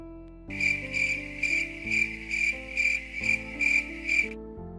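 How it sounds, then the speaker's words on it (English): Crickets chirp in a steady rhythmic pulse, about eight even bursts, loud and close against a quiet background with no talking. "Crickets."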